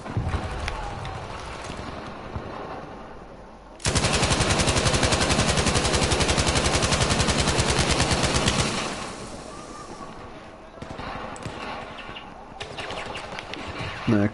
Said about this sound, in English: I'm going back to my machine gun.